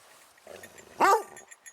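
A dog in a wilderness camp gives a single loud bark with a yelping, vocal quality after some quieter grumbling sounds, then falls back to soft noises.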